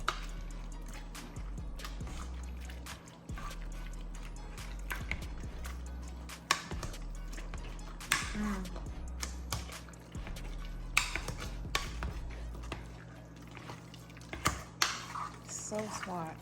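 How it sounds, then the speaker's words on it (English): Potatoes being mashed in a hot pot beside melting butter, with repeated soft squishy thumps and scrapes against the pot in an uneven rhythm over a continuous low hum. "you can still start the mash."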